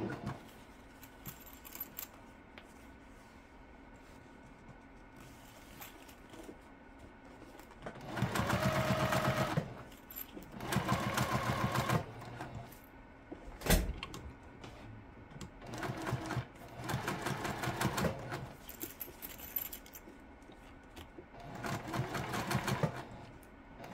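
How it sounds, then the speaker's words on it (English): A sewing machine bastes the edges of a fabric gusset in several short runs of rapid stitching separated by pauses, fairly quiet and close, with light handling clicks between bursts. "let's baste our gusset together on the edges here"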